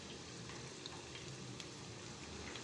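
Vegetable pakoras deep-frying in hot oil give a steady, dense sizzle with faint crackles and pops, soft and continuous throughout with no talking.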